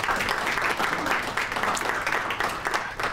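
An audience at a hospital town hall applauds a county Woman of the Year honoree, with steady, dense clapping from many hands that holds at an even level throughout.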